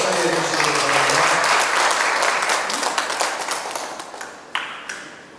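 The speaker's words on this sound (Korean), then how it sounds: "박수로 환영해 주시기 바랍니다" Audience at a church retreat applauds to welcome a pastor and his wife, full clapping at first that thins into scattered claps and fades out.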